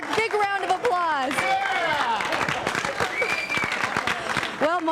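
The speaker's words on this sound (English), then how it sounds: "Those that want to hear Mark, big round of applause." A crowd gives a big round of applause for Mark Hiller, sharp claps scattered throughout while voices whoop and cheer loudly over them, nearby and energetic.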